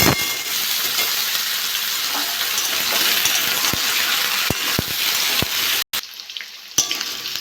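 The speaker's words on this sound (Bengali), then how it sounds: "কচুরমুখী বেগুনগুলো ভালো করে ভেজে নিয়েছি" Taro roots and eggplant fry in a pan with a constant loud sizzle, broken by sharp clicks of a utensil against the pan and a brief cut near the end.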